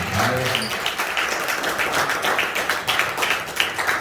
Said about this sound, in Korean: 우리 신섭 선생님의 다시 한번 뜨거운 박수 부탁드리겠습니다.